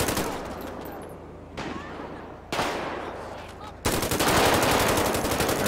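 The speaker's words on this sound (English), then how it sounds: "There's a lot of shooting going on." Rapid automatic gunfire rattles in GTA 5, loud continuous bursts that cut in and out in several segments, growing denser and louder toward the end.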